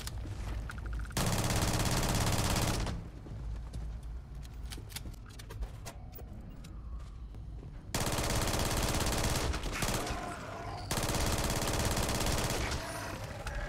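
Rapid automatic gunfire from the player's weapon in the video game Starfield, loud sustained bursts of machine-gun fire in three long volleys separated by quieter stretches of game ambience.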